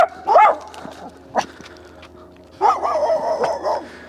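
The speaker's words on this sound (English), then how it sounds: "There is a dog barking behind this fence," A dog barking behind a fence outdoors, a couple of sharp barks at the start, one brief yip, then a longer run of agitated barking and whining at moderate distance.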